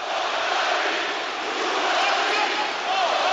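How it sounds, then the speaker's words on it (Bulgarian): A packed arena crowd at a heavyweight boxing match erupts in a dense, sustained roar of cheering and shouting, loud and unbroken throughout. "публиката отново избухва"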